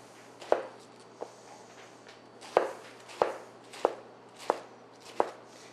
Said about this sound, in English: And just give it a nice chop and throw it right in a bowl.